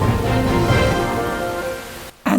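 Steady rain falls in the Xenoblade Chronicles X world, a dense, even hiss that continues for about two seconds before briefly dropping out and returning.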